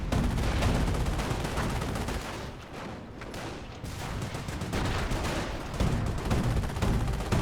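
Tank gun shots aimed at a Stuart tank during a Company of Heroes battle, a dense barrage of booming blasts and crackling gunfire that runs loud throughout, dipping briefly in the middle before surging again.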